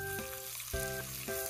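Food sizzles on a cheap Daiso barbecue grill at an outdoor solo barbecue, a close, steady crackling fry with a few soft bumps mixed in.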